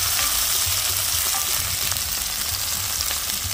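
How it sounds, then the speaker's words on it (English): Onions and tomatoes sautéing in a pan as the base for a catfish curry: a steady, close, dense sizzle and crackle with faint stirring, continuous throughout and no talking. "I like to saute my onions first. Putting the onions in there and also some tomatoes."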